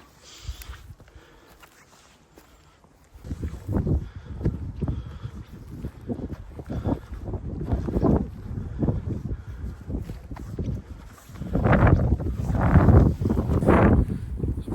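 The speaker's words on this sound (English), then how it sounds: "It's a bit more windy over here." Gusty wind on a snowy mountain top during a winter walk buffets the microphone in heavy, roaring surges, quieter at first and then building into strong blasts near the end.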